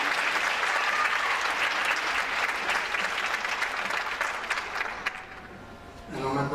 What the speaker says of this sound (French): Applaudissez-la.